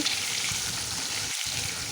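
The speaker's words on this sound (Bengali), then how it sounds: "মাছগুলোর এক সাইডটা ভাজা হয়ে গেছে তাই উল্টে দেব" Fish fillets sizzling in hot oil in a pan, a steady, even frying hiss throughout with no voices.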